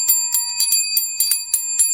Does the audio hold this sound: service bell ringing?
yes